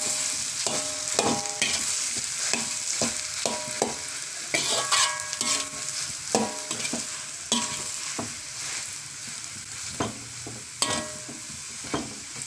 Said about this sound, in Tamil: கிளறி விடுங்க.